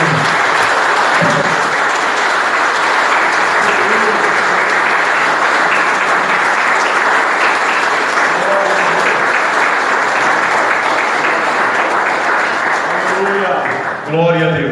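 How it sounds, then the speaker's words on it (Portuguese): A church congregation applauds loudly and continuously for God, a thick unbroken roar of clapping lasting many seconds, with voices calling out underneath before it thins at the end. "Vamos aplaudir ao nosso Deus"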